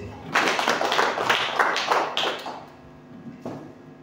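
A church audience clapping at a couples' teaching service, a burst of many hands that rises quickly, stays lively for about two seconds, then fades to a few scattered claps.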